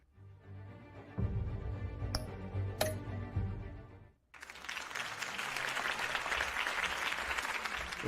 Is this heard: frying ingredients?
no